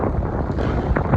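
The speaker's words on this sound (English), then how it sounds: "It's a little bit windy, but it is good weather." Wind gusting outdoors at night in Miami, a steady loud rumbling roar buffeting the microphone with no pauses.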